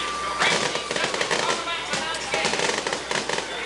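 Fireworks crackle and pop in rapid, dense bursts over Prestonsburg after a high school football regional championship win over Belfry, a steady rattling barrage with a voice talking over it.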